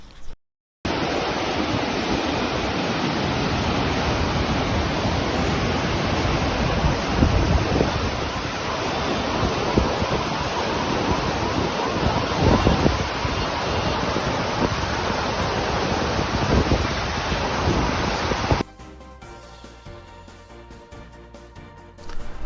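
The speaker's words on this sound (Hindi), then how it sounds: "डैम के 4 दरवाजे खोलकर पानी खारिज किया" Water rushes out of four opened dam gates after days of heavy rain around Karimnagar in Telangana, a loud, steady, broad roar that continues unbroken for about eighteen seconds with no voices, then drops away abruptly.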